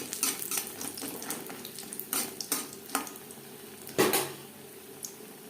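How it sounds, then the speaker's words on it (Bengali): Sun-dried lentil dumplings (bori) frying in a kadai, with a light crackling sizzle under repeated clatters and clinks of utensil against pan, one louder knock near the end. "অন্য একটি কড়াইতে বড়ি ভেজে নেব"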